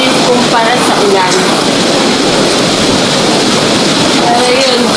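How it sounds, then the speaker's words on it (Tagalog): Strong typhoon wind and rain batter flooded streets in Bicol, the Philippines, in a loud, steady roaring wash that never lets up and has voices faintly beneath it. "Malakas. Pero mas malakas yung hangin kumpara sa ulan."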